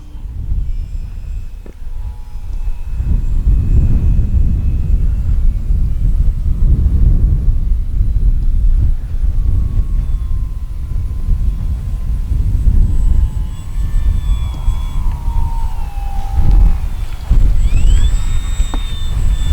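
Gusty wind roars steadily against the microphone at a flying field as an RC plane flies, with a faint engine whine rising near the end.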